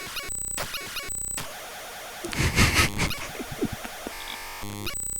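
FL Studio project file data played back as raw audio, a loud, harsh digital jumble of tones, buzzing bursts, squeaky chirps and static that shifts abruptly over a few seconds.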